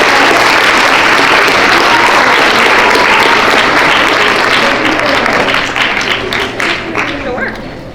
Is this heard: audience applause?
yes